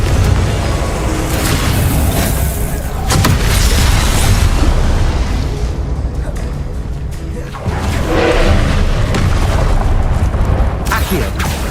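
Loud booming blasts of a blasting curse in Hogwarts Legacy erupt repeatedly amid a constant roar of combat effects, with sharp bursts near the start and end.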